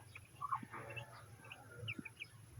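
A hen clucks softly a few times in short, scattered calls, faint and fairly close, with a low steady background hum.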